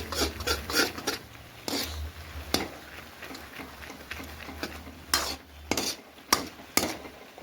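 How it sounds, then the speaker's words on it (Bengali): A utensil stirs Maggi noodles in a pan, with a scatter of quick metallic scrapes and clinks over a soft steady sizzle, a few louder knocks near the end. "এটা একটু নেড়ে ছেড়ে দেবো।"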